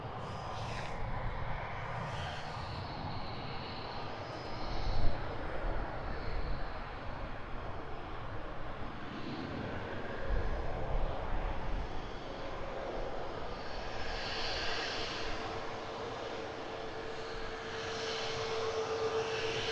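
British Airways CityFlyer airliner landing at Edinburgh Airport, a sustained jet engine roar rising and falling over about twenty seconds, moderately distant and heard alone without talk.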